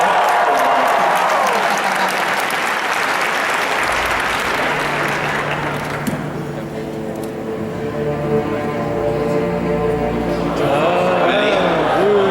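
A big convention crowd at the C2E2 cosplay championship claps and cheers for a Squirrel Girl cosplayer, loud and dense at first, then thinning as an announcer's amplified voice takes over, with clapping swelling again near the end.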